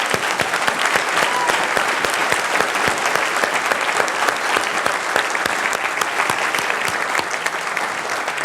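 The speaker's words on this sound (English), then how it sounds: "Can we give a round of applause for our Dragon's Den?" An audience at a zero waste conference applauds with dense, sustained clapping that holds steady and loud throughout, with no talking over it.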